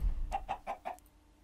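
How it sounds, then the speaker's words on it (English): Minecraft chickens cluck four times in a quick, even series of short calls at moderate volume, then fade to quiet background. "So the chickens are free roaming."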